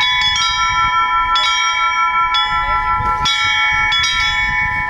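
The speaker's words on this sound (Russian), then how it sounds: "любой желающий мог попробовать себя в роли звонаря и позвонить в колокола." Church bells rung by visitors at Easter festivities ring out in a steady series of strikes, their bright tones overlapping and sustaining, fairly close and loud with crowd murmur beneath.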